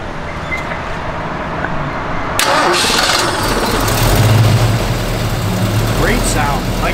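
A 1973 Ford Mustang convertible engine cranks and catches, then settles into a steady low idle, close and fairly loud, with someone talking over it before and during the start.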